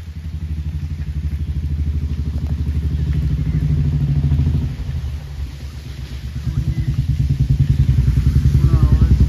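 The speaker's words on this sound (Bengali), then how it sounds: "খালি একটা কি দুটো বাইক যাচ্ছে, এই যে আওয়াজ" Motorbike engine droning past on a quiet road near a small temple, a close, loud rumble that rises, dips midway, then swells again.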